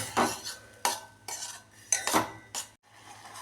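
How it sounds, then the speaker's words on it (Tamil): A spoon scrapes and clanks around a pan stirring banana puree, a metallic stirring rhythm of about six passes with no talking. "இப்போ ஒரு நல்ல மிக்சிங் கொடுத்துக்கோங்க."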